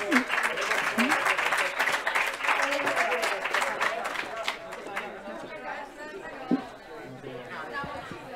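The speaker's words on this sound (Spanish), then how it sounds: "el aplauso de Gema y Monte que hemos hecho desde ANIS era para todo el equipo de Córdoba" Applause with crowd chatter at the closing of a congress, brisk clapping filling the room, loud at first and then thinning into murmured voices with scattered claps.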